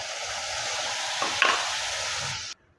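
Masala sautéing in hot oil in a kadai with fennel and cinnamon, a continuous close sizzle and frying hiss with a brief stirring scrape partway through, cutting off abruptly near the end.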